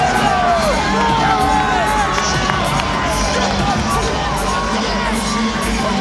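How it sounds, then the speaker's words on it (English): A showbiz crowd at a world heavyweight boxing title fight roars as Lennox Lewis walks to the ring, dense loud cheering, whoops and yells with no break. "giving Lennox Lewis a rousing reception as he comes to the ring"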